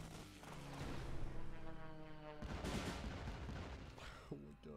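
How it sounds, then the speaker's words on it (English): Bomb explosions from an aerial attack in the KARDS card game, a dense run of booming blasts and rumble stacked close together at steady loudness, with a harder cluster of hits midway. "Oh my god, so many bombs."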